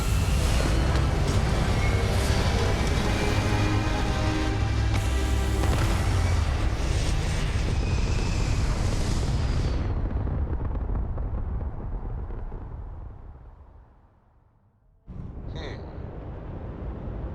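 Spaceship thrusters fire in Starfield with a loud, dense roar that holds steady, then fades away to near silence before a quieter ambient tone comes in.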